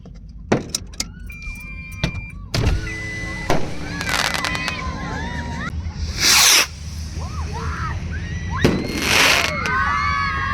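Firecrackers going off outdoors on New Year's night in the Kuwaiti desert: scattered sharp pops, then two louder crackling bursts, with distant voices and children's shouts in the background.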